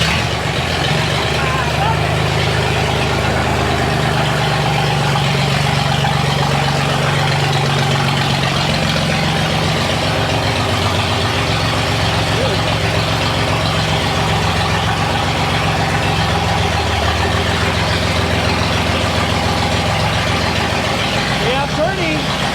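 Engine of a 1953 GMC truck running at idle, a steady close low rumble throughout, with a person talking over it.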